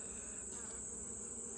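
Honey bees droning steadily at an open hive during an inspection of capped, hatching brood, a dense close buzz that stays even throughout with no voices.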